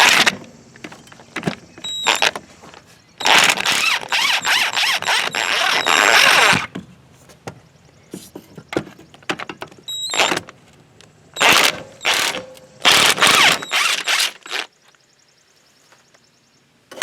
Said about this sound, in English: So right now I'm going to take out these three bolts, and that should pop right out of there.